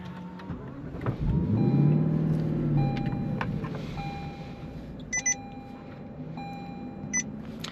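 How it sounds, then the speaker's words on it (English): A 2022 Lexus LC500 starts up nearby: a loud low roar swells in a second after the button press and eases back to a steady idle, with brief high electronic chimes sounding over it. "I'm gonna go ahead and start the car for you guys"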